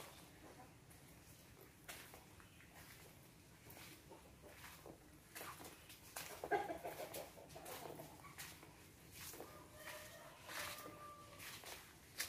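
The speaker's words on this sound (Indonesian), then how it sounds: "Banyak ayam." Chickens cluck in a quiet village that sits on ground once hit by a landslide, scattered clucks and short calls near and far over faint background, with one louder burst midway.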